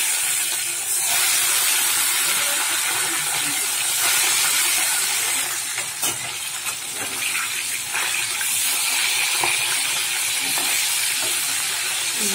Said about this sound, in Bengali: এদিকে কড়া বসিয়েছি, তেল গরম হয়ে গেছে, মাছটা দিয়ে দিচ্ছি।